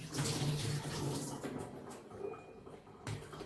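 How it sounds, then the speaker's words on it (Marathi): Mutton pieces being washed in water in a home kitchen, with steady close splashing and trickling of water. "मी हे मटण आहे हे स्वच्छ धुवून घेते 2-3 वेळा पाण्याने"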